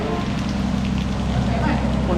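Steady, dense rain falls continuously and close by, with a constant hiss and low rumble throughout the short stretch and no clear speech over it.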